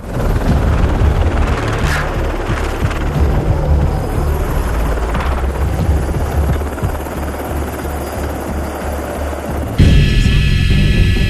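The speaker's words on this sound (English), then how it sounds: "One rogue deck strap caused this helicopter to swing dangerously close to the crew member still on deck several times in a few seconds." Helicopter rotor and engine roar, loud and close, as the aircraft swings near a ship's deck held by a loose deck strap; a steady throbbing drone that continues throughout, with a sharper shift near the end.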